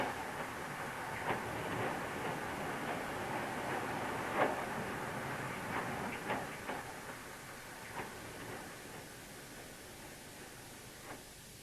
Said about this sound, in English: A clay train down from Torrington along the Tor, the only remnant of line beyond Barnstaple.